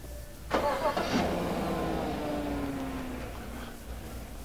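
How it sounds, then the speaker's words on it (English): A Chevrolet truck started remotely through OnStar cranks briefly, then catches and settles into a steady idle close by, with no talking. "Let me show you how to do the remote start."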